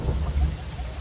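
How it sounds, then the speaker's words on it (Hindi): A brief rain-and-thunder sound effect from a Hindi-dubbed Tamil action film: steady heavy rain hisses over a deep, loud rumble of thunder. "ओह, ये तो बारिश हो रही है।"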